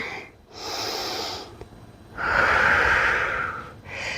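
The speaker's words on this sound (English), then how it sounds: "Fully breathing inward and outward." Deep, audible breaths during a yoga-inspired calisthenics session, a long inhale and exhale with breathy airflow, close and fairly loud, with no talking.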